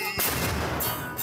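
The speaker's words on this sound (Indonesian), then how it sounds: "penggunaan meriam untuk menandakan waktu tengah hari" A single booming cannon blast fired to mark midday erupts loud and close, its heavy roar rolling and echoing for over a second.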